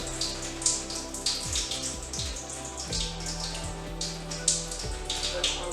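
Water splashes and trickles into a bowl at a kitchen sink while a homemade spa paste is mixed, giving irregular close drips and pours against a low background hum.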